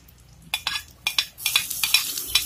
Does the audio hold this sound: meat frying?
yes